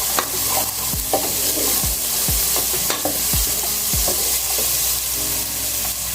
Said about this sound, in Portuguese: Eu vou dar uma douradinha nesse tomate junto com esse alho.